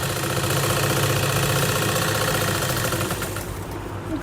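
A sewing machine stitches a skirt joint with a continuous close motor whir and fast rhythmic clatter of needle strokes that eases off near the end.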